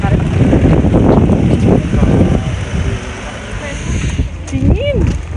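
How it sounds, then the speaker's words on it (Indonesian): Cold autumn wind blowing outdoors in Japan, loud buffeting gusts rumbling against the microphone, easing midway and then returning, with people talking briefly. "Anginnya dingin banget."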